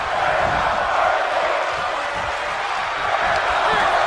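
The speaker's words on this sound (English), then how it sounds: "Crowd chanting that they aren't worthy" Steady, dense crowd roar from a virtual wrestling arena in WWE 2K22 during an Asuka versus Trish Stratus match, a continuous chanting wash with no clear breaks across the whole stretch.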